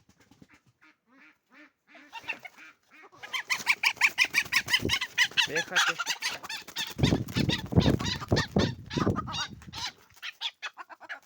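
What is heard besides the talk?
chickens and rooster clucking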